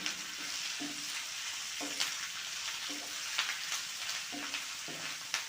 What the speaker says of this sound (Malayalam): നമ്മൾ ഊരി വെച്ചിരിക്കുന്ന മുരിങ്ങയുടെ ഇലയും കൂടി ചേർത്ത് കൊടുക്കുക എന്നിട്ട് എല്ലാം കൂടി നന്നായി ഒന്ന് വാട്ടിയെടുക്കുക